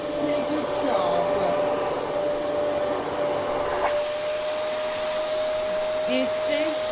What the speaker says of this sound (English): Vacuuming the whole house. Doing a pretty good job.